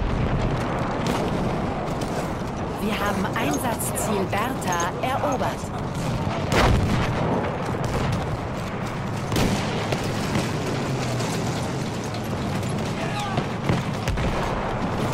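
Gunfire and explosions in the Battlefield 1 multiplayer video game, dense booms and shots running throughout, heard under someone talking and in-game radio voice lines.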